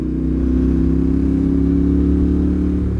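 A Yamaha Tenere 700 World Raid motorcycle climbs a hill road, its engine a loud, close, steady low drone throughout with no voices.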